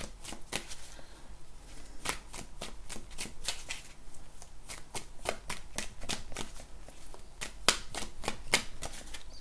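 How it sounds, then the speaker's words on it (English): Tarot cards shuffled by hand in a quiet room, giving a continuous series of soft riffling flutters and crisp snapping taps, close and fairly faint with no talking. "I'm just going to pull a few cards here"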